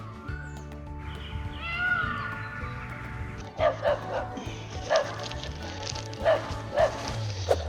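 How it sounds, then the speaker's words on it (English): A dog barks in short, sharp bursts at a moderate distance, several barks spaced over a few seconds after a stretch of quieter background. "there's a dog barking"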